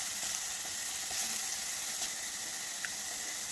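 Crushed ginger and garlic fry quietly in a pan, giving a faint, even sizzle with a few soft scrapes of stirring and no voices.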